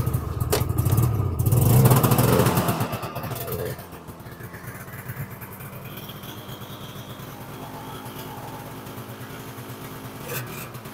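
A Yamaha Phazer snowmobile engine fires up after oil and gas pump leak repairs, roaring loudly at first and then settling into a steady, quieter idle that keeps running close by.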